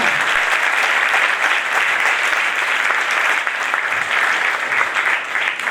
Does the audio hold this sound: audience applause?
yes